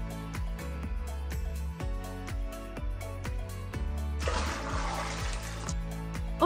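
Water from a dirty pond sloshes and gurgles in a short noisy burst midway through, set against steady background music.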